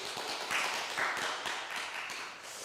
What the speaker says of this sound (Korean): 우리 함께 박수로 맞이하도록 하겠습니다